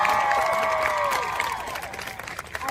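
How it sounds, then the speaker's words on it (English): An audience applauds and cheers for a Holocaust survivor speaking at an event, with clapping and voices, and rising tones, fading slightly over a few seconds. "I do not deserve applause."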